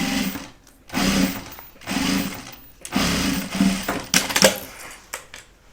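Sewing machine stitching down fabric edges ahead of binding a quilt, several short whirring bursts of stitching separated by pauses, close and fairly loud with no talking.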